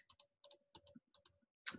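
A calculator keypad is tapped in quick bursts of small plastic clicks, paired and irregular, close and quiet in an otherwise silent room, ending with one sharper press.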